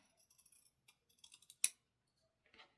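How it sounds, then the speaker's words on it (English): Fabric scissors snip through fabric in a quiet series of short, crisp clicks and cuts, ending with one sharper snip and a faint final rustle. "Let me grab my fabric scissors. And I'm going to make a fresh cut here."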